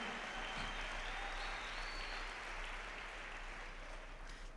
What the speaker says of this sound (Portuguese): Denles aplauso a él.